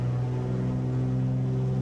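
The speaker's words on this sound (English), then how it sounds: "I hope you are hearing these nice engine sounds" Twin piston engines of a Flysimware Cessna 414 Chancellor in Microsoft Flight Simulator 2020, a steady close drone with strong low harmonics held at constant power throughout, no talk.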